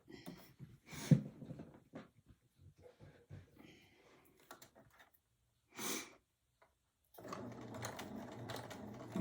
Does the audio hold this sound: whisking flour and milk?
no